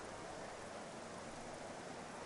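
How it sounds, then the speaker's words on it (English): Heavy, storm-like rain in a Formula racing video game, a steady dense hiss of rainfall that holds constant and fairly quiet throughout. "The rain has picked up. It is almost storm weather now."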